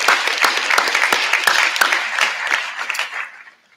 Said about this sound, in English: give the parents a round of applause for the work you've done